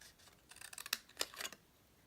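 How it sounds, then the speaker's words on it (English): Snips cutting out paper: a quick cluster of faint, close, crisp snipping clicks over about a second, quiet with no speech. "I'm going to take my snips and I'm going to very carefully cut out"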